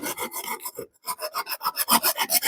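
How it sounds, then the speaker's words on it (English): A hand saw cutting quickly through cedar wood outdoors, with steady rhythmic rasping strokes, a brief pause, then faster, louder back-and-forth strokes close up. "that thing saws fast through cedar anyway"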